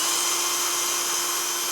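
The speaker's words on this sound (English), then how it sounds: "Got my drill, screwdriver attachment on" A steady high-pitched whine of a power drill with a screwdriver attachment running continuously for a moment while working on a brake cylinder, close and fairly loud.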